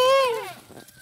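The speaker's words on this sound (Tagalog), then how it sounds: "Wow, kambing." A single goat gives a loud, close wavering bleat that slides downward and fades within a second, heard near a mountain spring with faint background noise.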